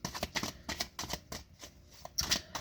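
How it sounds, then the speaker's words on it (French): Tarot cards being drawn and shuffled, heard as a close run of quick papery riffles and flicks in uneven bursts, with no voice. "on va aller chercher un petit peu de cartes pour compléter"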